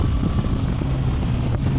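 A Hornet 1000SP personal watercraft runs hard on the water, its engine roaring as a steady low rumble heavily buffeted by wind noise, loud and close, with no speech.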